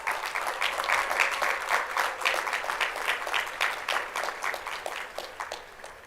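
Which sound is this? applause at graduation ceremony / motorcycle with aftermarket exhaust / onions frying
applause at graduation ceremony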